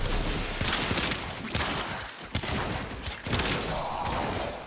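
Rapid bursts of gunfire from the Lato Vandal Incarnon pistol in Warframe, with loud overlapping shots and impacts under a busy, dense game soundscape, no voices.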